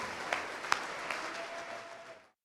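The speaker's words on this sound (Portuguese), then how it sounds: "Vamos aplaudir ao Senhor." Congregation in a church clapping for a short moment, a dense, fairly quiet patter with a few sharper claps standing out before it fades away.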